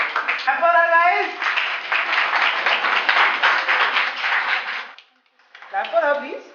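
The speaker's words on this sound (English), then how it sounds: "Clap for her, please." Audience at a school speaker event in the Vidarbha region of Maharashtra applauds an award winner with a steady, full round of clapping lasting several seconds, framed by a voice speaking briefly before and after.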